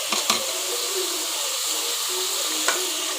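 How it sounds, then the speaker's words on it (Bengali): Chilli, turmeric, black cumin and ground coriander sizzle in a small amount of oil for a chicken and turnip curry, a steady bright hiss broken by a few sharp stirring clicks. "তো আমি মশলাগুলোকে ভালো করে ভেজে নিচ্ছি।"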